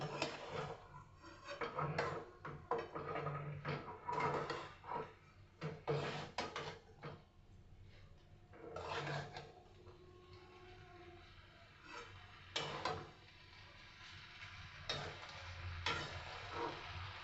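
Oats pulao is stirred and mixed in a pan, making irregular scraping and clattering bursts with quieter gaps, fairly faint overall and with no talking.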